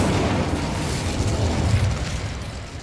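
An Incendio fire spell is cast in Hogwarts Legacy, giving a sustained, roaring burst of flame. It stays loud and dense, without a sharp attack, and carries on alone for about three seconds.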